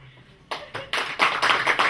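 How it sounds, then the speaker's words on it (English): Applause from an audience at a stand-up comedy show, starting with a few scattered claps and quickly building into louder, denser clapping. "Because you guys were applauding"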